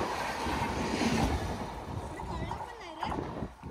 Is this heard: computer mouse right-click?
no